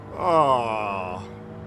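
Small Suzuki Jimny engine fitted in a Caterham in Gran Turismo 7, a sustained nasal, buzzy drone with a rising then easing pitch, fairly loud and alone for under two seconds.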